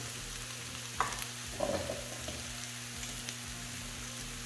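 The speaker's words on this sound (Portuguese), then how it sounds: "agora a gente vai deixar ele refogando junto com a cebola" Shiitake mushrooms sautéing with onion in a pan, a quiet steady sizzle close by with a couple of brief clinks of the utensil and a faint electrical hum underneath.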